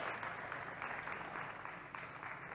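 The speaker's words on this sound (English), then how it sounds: "A big round of applause." Faint, steady applause from an audience at an English school debate patters evenly for a couple of seconds, heard from a distance.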